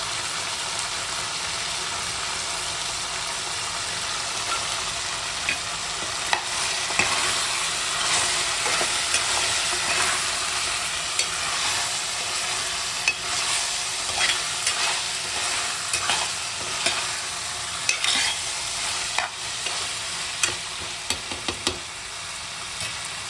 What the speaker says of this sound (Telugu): ఆయిల్లో బాగా ఫ్రై చేసుకోవాలి